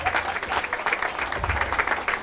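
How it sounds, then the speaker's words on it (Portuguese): An audience gives a steady round of applause at a Portuguese community event in Montreal, dense clapping continuing evenly for a couple of seconds. "dar um grande salva de palmas"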